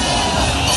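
A huge crowd roaring at an elephant festival entry, the pooram at Anayadi, as a dense, loud wall of cheering and shouting with no let-up over a brief moment.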